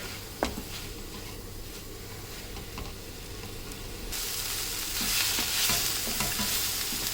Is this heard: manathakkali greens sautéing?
yes